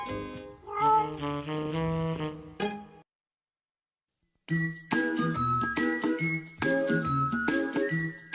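Meow-like voiced calls from children's cartoon characters pretending to be cats, a voice imitating the animal, in two loud bursts over tinkling, chiming music, separated by a short silent gap.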